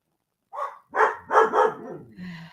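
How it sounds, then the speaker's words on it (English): Several dogs in a house bark excitedly at someone at the door, a quick series of loud, close barks and yips with no one speaking over them. "My dogs are like going crazy. Somebody must be at the door."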